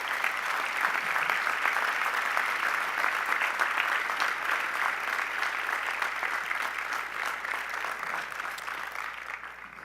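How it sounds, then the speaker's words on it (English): Sustained audience applause fills a business school commencement hall, steady dense clapping from a large crowd that holds loud throughout and tapers only slightly toward the end. "I ask that you give them a round of applause before we proceed"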